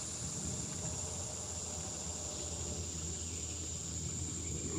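Crickets kept in a bucket give off a continuous high, even chirring that holds steady throughout, close and clear over a faint low background hum, with no speech.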